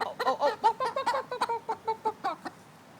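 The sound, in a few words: chicken clucking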